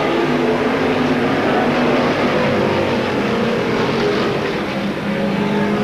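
Stock cars racing at Seekonk Speedway in a 1992 Pro Stock 100, a steady, loud roar of several engines running together that holds for the whole stretch without a break.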